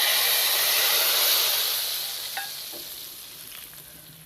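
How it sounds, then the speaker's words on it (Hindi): Garlic tadka poured over cooked whole masoor dal gives a loud, steady close-up sizzle and hiss that slowly fades as the hot oil settles, with a few faint clinks near the end. "अब हम तड़के को साबुत मसर जो हमने बनाए हैं उसके ऊपर हम डाल देंगे।"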